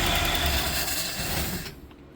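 A revived 1969 Chevelle barn find with no throttle return spring runs loudly up close, a dense, rough roar that suddenly cuts out and falls to near quiet.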